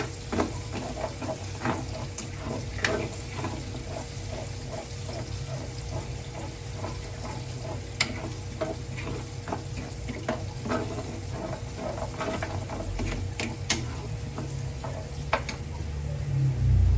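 Tomato sizzles in a pan while being cooked for tsambang meenu, giving a steady crackle with scattered sharp pops and occasional stirring scrapes that swell slightly louder toward the end.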